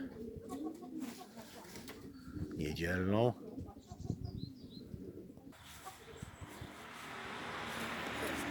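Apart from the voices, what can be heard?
homing pigeons cooing on a roof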